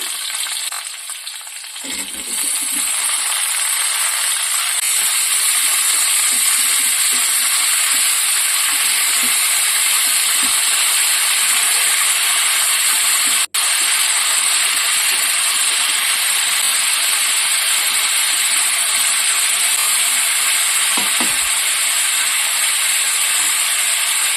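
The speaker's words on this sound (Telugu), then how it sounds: "సో ఇవి పక్కన ఫ్రై అవుతున్న సమయంలో బాగా మగ్గేంత వరకు కొంచెం సేపు మనం మగ్గనివ్వాలి టొమాటోస్ అండ్ పచ్చిమిర్చి" Raw green tomatoes, garlic and tamarind fry in a pan with a steady, close sizzle and hiss that runs throughout, with faint stirring scrapes and no talk.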